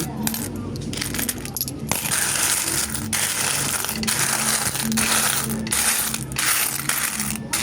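A big pile of small-change peso coins from a neighborhood sari-sari store is handled and counted, giving continuous metallic clinking and jingling with dense overlapping clatters, loud and close throughout.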